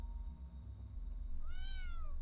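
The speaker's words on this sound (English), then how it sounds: "A cat. How did you get in here?" A cat meows in a horror video game, a clear rising-then-falling meow in the second half over a low, steady ambient drone.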